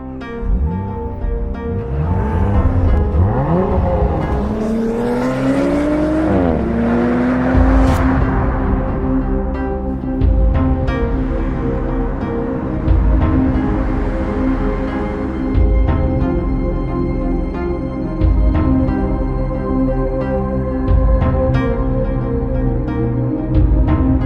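A 2019 Audi RS4 Avant driven quickly on the Nürburgring, its engine rising sharply through the revs in a loud surge, then settling into a sustained, steady drone close to the microphone.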